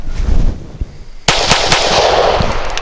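Canik TP9 Elite pistol firing a 124 grain suppressor load outdoors on wet ground. One sharp, loud, close report cuts through low rumbling handling noise, and a few quick follow-up cracks and echoes trail after it.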